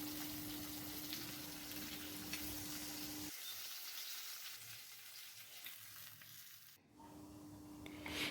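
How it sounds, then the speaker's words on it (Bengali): Fish frying in a pan of hot oil gives a steady, close sizzle and crackle that runs throughout, briefly thinning and then returning at full strength. "এরপর মাছগুলো সেই তেলে আমরা ভেজে নিচ্ছি"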